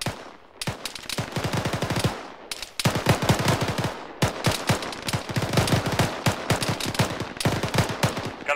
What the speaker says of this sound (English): Gunfire west, northwest?